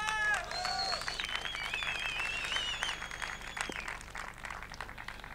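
A conference audience at Erepday 2014 claps steadily in a dense, lively burst, mixed with high whistles and whoops and some voices.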